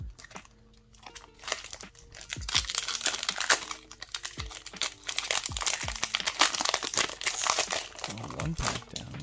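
A Magic the Gathering Strixhaven booster pack's foil wrapper crinkles and tears open up close, with repeated crisp crackles and rustles, while a voice talks intermittently.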